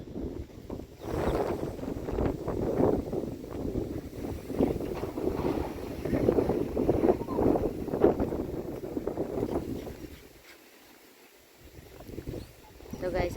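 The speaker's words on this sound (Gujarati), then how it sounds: "મસ્ત મસ્ત પવન આવે" Wind blowing across open farm fields on a sunny day, a steady broadband rush with low rumbling gusts that dips briefly near the end before picking up again.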